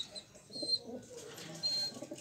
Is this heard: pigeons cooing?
yes